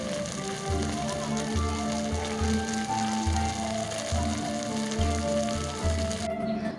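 Potato fritters fry in hot oil in a wok with a dense, continuous crackle and sizzle. An irregular low bubbling thump runs beneath it, and the sound stays close and fairly loud for the full few seconds without speech.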